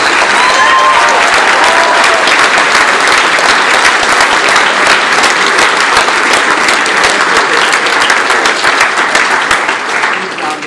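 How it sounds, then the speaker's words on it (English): Loud, dense applause from an audience fills the whole stretch, many hands clapping steadily and close, tapering slightly at the end. "Please give these people a round of applause."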